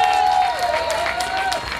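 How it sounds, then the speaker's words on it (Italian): An audience applauds a voice actor at a dubbing event, a crowd clapping steadily with some cheering while a faint tonal sound glides underneath. "Allora fate un applauso per Fabrizio Mazzotta"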